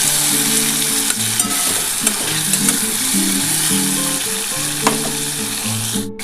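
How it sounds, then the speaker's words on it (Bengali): Prawns fry lightly in hot oil for a Bengali potato prawn curry, a loud continuous sizzle close up, with a faint melodic tune playing underneath. "চিংড়ি মাছটা একটু হালকা করে ভেজে নেবো"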